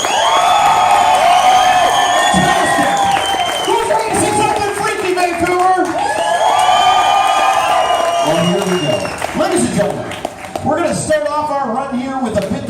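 Crowd at a Fright Nights sideshow performance claps, cheers and whoops loudly in a practice round of applause, a continuous roar of voices and hands with shouting swelling and dipping.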